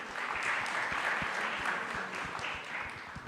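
Audience applause for guests at a youth conclave, sustained clapping with distinct individual claps popping out of the crowd, fairly even throughout and fading slightly toward the end, with no talking over it.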